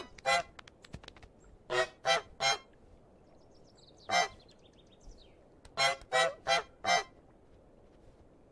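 A goose plays a harmonica in Untitled Goose Game, producing a series of short, reedy honk-like notes in uneven clusters separated by quiet pauses.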